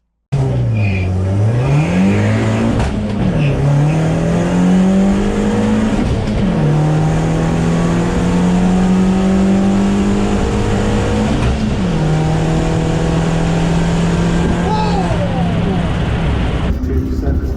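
A VW Polo race car and a Renault Clio race car accelerate hard on a track during a test day, one engine droning and rising through the gears with quick shift dips, loud and continuous, with no pause.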